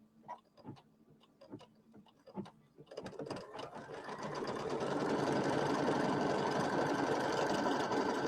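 An embroidery machine tacking down quilt batting on a pieced flag block starts with separate clacks and taps, then settles into a loud, steady, rapid mechanical whir that continues without talk.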